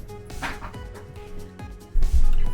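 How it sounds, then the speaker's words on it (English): A pet dog barks a few times indoors, short bow-wow yelps with a louder burst near the end, heard at moderate distance. "that was my dog barking"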